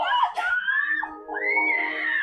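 A person screams in several long, strained, wavering cries, loud and close, with a short break in the middle before the shrieking resumes.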